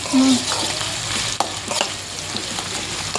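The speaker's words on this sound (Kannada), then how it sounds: "ಸ್ವಲ್ಪ ಗ್ಯಾಸ್ ಹೈ ಇಟ್ಟು ಹೆಚ್ಚಿಗಿಟ್ಟು ಹಿಂಗೆ ಫ್ರೈ ಮಾಡ್ಕೋರಿ" Food fries over a high gas flame in a home kitchen, a loud, dense sizzle with scattered stirring scrapes and one sharp knock early on.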